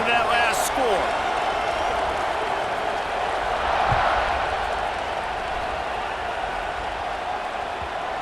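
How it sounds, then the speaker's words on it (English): Stadium crowd buzzing in EA Sports College Football 26, a broad continuous roar of many voices at moderate distance, with a few brief thuds, under a commentator's talk. "this crowd is buzzing after that last score"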